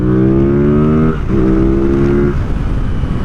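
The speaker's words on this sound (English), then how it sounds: "You guys hear that honk that it has." A loud, throaty 2025 Yamaha MT-07 motorcycle engine close by, its pitch dipping and rising as it downshifts, with a deep honking intake tone.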